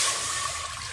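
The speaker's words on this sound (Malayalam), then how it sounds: "ആദ്യം ഒരു കുക്കറിൽ വെള്ളമൊഴിക്കാം." Water pours into a pressure cooker, a close, steady splashing rush that eases slightly as the pour goes on.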